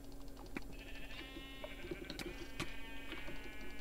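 Repeated sheep bleats from Minecraft on the Mineplex server, several short calls in quick succession over a busy game background with clicks and effects, moderately loud.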